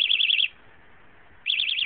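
Two bursts of a high, warbling electronic chirp from a motorcycle alarm on an 80cc motorized cruiser, one at the start and one at the end, with a quiet gap between them. The sound is loud and close.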